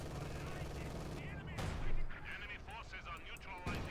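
Heavy gunfire and shell blasts from a StuG assault gun bombardment in the Company of Heroes 2 strategy game ring out in a dense, overlapping battle din, with faint voices underneath.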